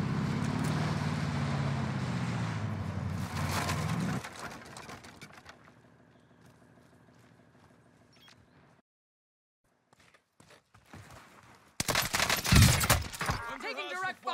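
Gunfire in Warzone Pacific with a Type 11 LMG: loud bursts of automatic fire early, then fainter rattling shots fading to near silence, before a sharp close burst of shots returns at the end.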